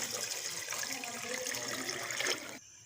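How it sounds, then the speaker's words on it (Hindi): Chicken stock (yakhni) pours into a pot of fried chicken for pulao, a steady splashing stream for a couple of seconds that stops abruptly. "अब हम इसमें 4 गिलास यखनी के डालेंगे।"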